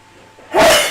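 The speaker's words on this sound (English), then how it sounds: "That was a sneeze." A single sharp, breathy burst lands halfway through after near silence, loud and close, like a sneeze.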